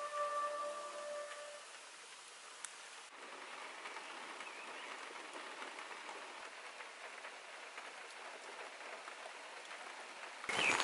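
Steady rain falls outdoors near a van while camping in a small village, a constant even hiss holding throughout with a brief louder burst at the very end.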